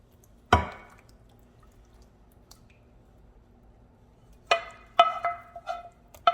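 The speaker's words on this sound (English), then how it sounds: "Now I'm going to pour over all of my chile con carne." Thick chili con carne poured from a pan over cheese enchiladas, giving a wet plop followed by a few soft squishing splats and drips, close and fairly quiet with no talking.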